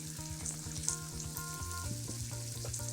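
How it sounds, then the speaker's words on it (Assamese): Tomato paste sizzles in hot oil with fried onions in a pan, a steady close crackling fry under a faint background hum. "সেই পেষ্টখিনিও ভালদৰে ভাজি ল'ব লাগিব।"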